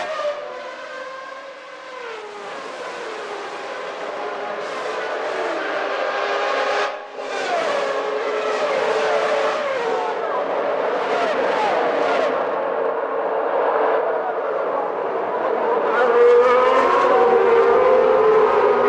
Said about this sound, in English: that going off is Martin Brundle in the Brabham Yamaha